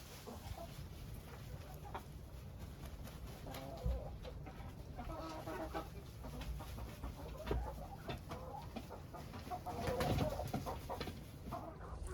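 Chickens on a farm cluck softly and intermittently in the background, faint and fairly distant, with a steady outdoor ambience and occasional louder bursts.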